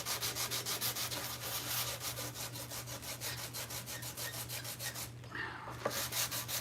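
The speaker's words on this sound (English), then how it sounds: "look at all the sanding I'm having to do now" Rhythmic back-and-forth strokes sanding filler flat, steady and close, briefly pausing near the end before resuming.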